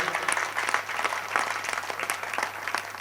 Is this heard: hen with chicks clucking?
no